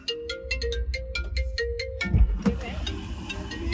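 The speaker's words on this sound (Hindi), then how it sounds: "टेलीफोन आ गया, किसको आ गया?" A telephone ringtone plays a repeating melodic pattern of short electronic beeps for about two seconds, then cuts off into muffled handling noise and room sound, with no one speaking.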